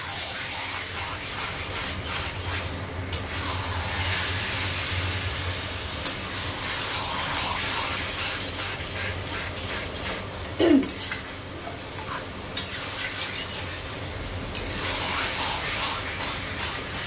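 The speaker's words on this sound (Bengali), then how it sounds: "চিকেনটা অ্যাড করে দিলাম। এরপরে বাড়িয়ে বাড়িয়ে কষতে থাকবো।" Lemon-marinated chicken frying in a pan gives a loud, continuous sizzle and hiss throughout, with a few brief clinks of a utensil against the pan.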